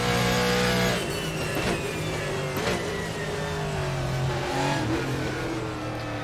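Ford GT1 race car at Mid Ohio in a racing video game, its engine droning steadily at high revs with shifting pitch sweeps and brief gear-change bursts, loud and continuous with no talk.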